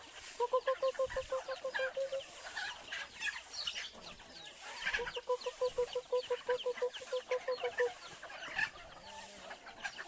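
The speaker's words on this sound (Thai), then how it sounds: "ไก่นะครับ" Several chickens cluck in quick repeated bursts, close by, with a pause between two busy runs of clucking and some rustling around them.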